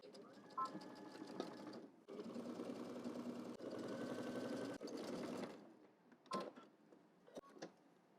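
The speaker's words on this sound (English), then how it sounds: "We're going to stitch using 5/8 of an inch seam allowance starting here all the way down to the hem." A sewing machine stitches a 5/8-inch seam allowance down to a hem in several runs, its rapid mechanical whir starting and stopping, with short pauses and small clicks between bursts, close and fairly loud.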